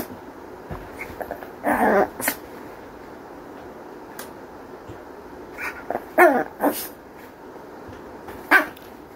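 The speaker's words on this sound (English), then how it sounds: "This is the only time we hear this dog barking is when he's having a tantrum" A dog throwing a tantrum lets out a few loud, close barks in short clusters, with whimpers and yips between the bursts.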